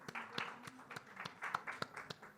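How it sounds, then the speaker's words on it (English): Audience applause welcoming a panelist onto the stage at a fintech conference on cross-border payments, heard as quiet, scattered clapping with sharp individual claps spread across the room. "A big round of applause"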